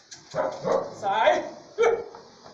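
A dog barks close by on a rural property where a mule is being trained, giving several loud, short barks with brief pauses between them.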